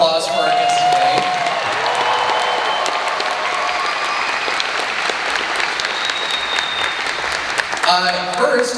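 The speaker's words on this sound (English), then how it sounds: "let's please give one more giant round of applause for our guests today" An audience at a One Piece Film Red panel in New York gives the guests a big round of applause, dense sustained clapping that carries on for several seconds.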